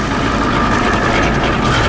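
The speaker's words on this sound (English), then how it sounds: "It sounds like it's not running on all cylinders." A diesel engine with a bad injection pump runs roughly, a loud, steady low drone with a coarse, uneven texture heard on its own.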